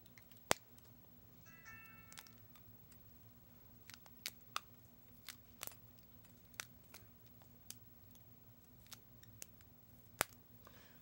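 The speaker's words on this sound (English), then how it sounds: "you could take your scissors and either trim them away" Scissors snip loose ends from loc hair extensions, quiet close clicks scattered irregularly over a steady background hum, with no talking.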